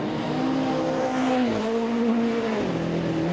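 National 4's race cars lapping the track at Kingaroy Speedway, with engines wailing and the pitch rising and dipping as the cars spread out and pass, loud and continuous.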